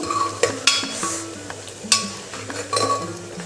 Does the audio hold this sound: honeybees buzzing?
no